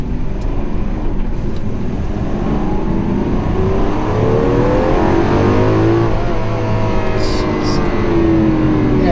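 Lamborghini Aventador SV engine accelerating in sport mode with automatic shifting on business-park back roads, a loud close V12 roar whose pitch climbs steadily through long-held gears.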